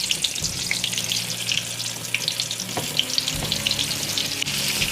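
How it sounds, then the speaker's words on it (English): Flour-coated turkey breast sizzling in hot frying grease, a steady close crackle with scattered sharp pops, alone without talk. "You know your grease is good when it sizzles like that."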